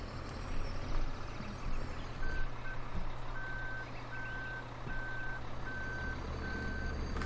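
A heavy truck engine rumbles while a repeating reversing beep sounds at an even rhythm, several beeps in a row under the steady engine noise.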